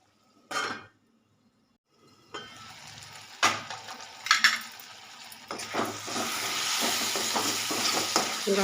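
Ginger paste dropped into hot oil in a pan for egg curry with ash gourd, giving a short sizzle, then a quiet spell, then louder frying and scraping stirs building to a steady sizzle.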